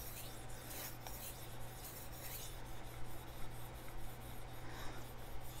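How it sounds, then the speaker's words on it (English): A chef knife is ground on a sharpening stone to remove the burr, giving a steady, continuous rasping scrape close by with rhythmic strokes and no talk. "So right now I'm grinding off the burr I just created"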